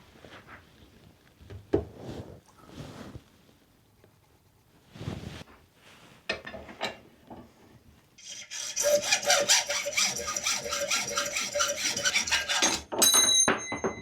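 A brass rod being cut down to width, heard as a few scattered handling clunks and scrapes followed by sustained, close, bright rasping metal cutting strokes for the last several seconds.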